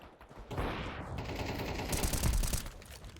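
A Desert Eagle pistol firing in a shooter video game: quiet onset, then several sharp gunshot cracks and echoing reports over busy in-game noise, the strongest blast landing past the midpoint.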